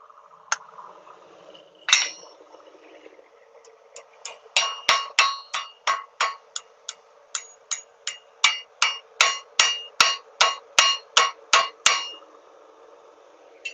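A wire coat hanger being hammered around an anvil, a sharp metallic strike, then a rapid steady run of about twenty ringing hammer blows, close and loud.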